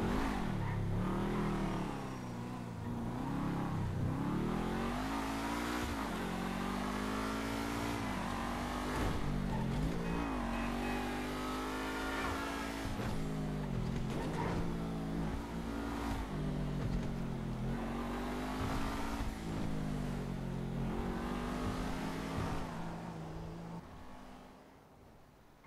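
A tuned Seven-70 sports car in GTA Online revs hard and accelerates through repeated gear shifts, its engine note climbing and dropping in waves, loud and continuous before fading at the end.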